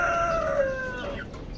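A newly hatched chick cheeps in clear, bright peeps, with chickens clucking softly nearby, the calls close and brief over quiet farmyard background.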